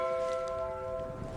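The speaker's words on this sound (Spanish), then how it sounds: "El día estaba marcado por las campanadas que llamaban a la oración" Church bells of a monastery ring out a sustained, resonant chiming tone that hangs in the air for its whole short span, with no voices.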